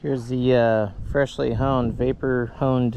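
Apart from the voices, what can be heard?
No distinct noise like a dog, phone or traffic.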